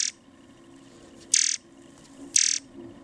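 Screen swipe sound effects from an iPhone tweak as pages switch: three short, bright whooshing swipes spaced about a second apart over a faint background hum.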